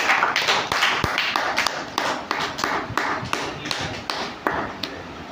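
Loud, dense applause from an audience honoring a student at a talk, rapid claps filling the space continuously for several seconds.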